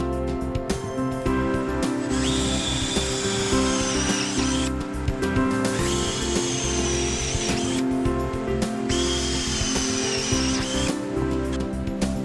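A power drill bores a hole through aluminum angle for an RV solar battery mount, running in three sustained high-pitched whining bursts of a few seconds each over a steady background hum.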